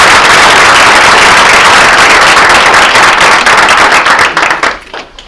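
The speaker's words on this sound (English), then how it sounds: "So could we have a round of applause?" An audience at a school board meeting claps in a loud, dense burst of applause that holds steady and then tapers off and stops.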